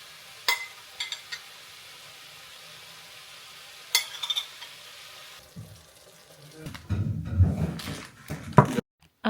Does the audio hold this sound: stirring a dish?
yes